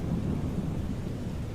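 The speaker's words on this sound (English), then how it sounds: "Got a nice thunderstorm going on." A thunderstorm inside a flight simulator game: a steady low rumble of thunder with rain hissing beneath, continuous and moderately loud throughout, with no talking.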